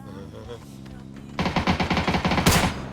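Rapid automatic gunfire from the video game PUBG starts partway through, a fast rhythmic burst of loud shots following quieter game ambience with a voice speaking early on.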